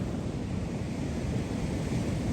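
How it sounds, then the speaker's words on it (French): Heavy winter ocean surf roars continuously, a dense low rumble of very large crashing waves mixed with wind buffeting the microphone. "j'ai jamais vu des vagues aussi grosses ici"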